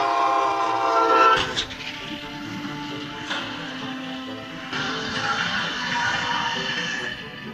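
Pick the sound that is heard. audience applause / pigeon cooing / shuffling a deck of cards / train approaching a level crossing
train approaching a level crossing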